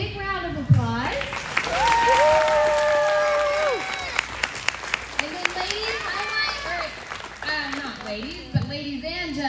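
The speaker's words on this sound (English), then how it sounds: "Let's give these girls a big round of applause." A crowd applauds gymnasts at the close of a 2022 summer gymnastics showcase, with steady clapping and light cheering running under loud, overlapping children's and adult voices.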